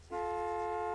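A car horn in the video game Gas Station Simulator blares as one steady, unbroken honk that starts abruptly and holds loud and close to the end.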